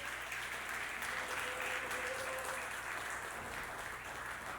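A church congregation applauds at a service: dense, steady clapping from many hands, fairly loud and continuous throughout with no pause.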